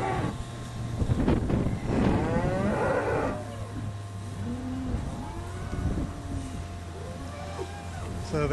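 Dairy cows kept outdoors on a farm moo repeatedly near the milking shed, several loud overlapping low calls followed by softer ones, with a steady machinery hum underneath.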